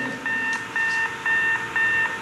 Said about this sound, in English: and that rather annoying proximity alarm.